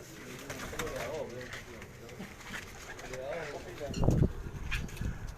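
Pigeons cooing in a loft, soft repeated coos close by, with people talking over them and a louder rustle or thump near the end.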